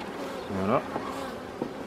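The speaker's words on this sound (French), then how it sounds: "Je vais même secouer un cadre d'abeilles pour avoir suffisamment de nourrice." Honeybees buzzing as a frame of nurse bees is shaken during queen rearing, a steady close insect drone with a few brief louder swells.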